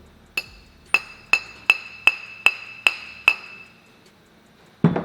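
Hammer gently tapping a part into a Can-Am clutch: eight sharp metallic clinks in a steady rhythm, close and ringing, followed by a pause and one more duller knock.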